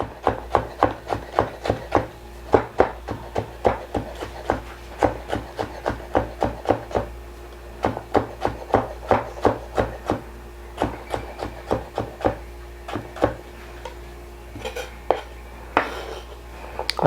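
Cucumbers sliced by hand with a knife on a wooden cutting board for hiyashi chuka, a steady run of sharp, close chopping taps that pause briefly now and then.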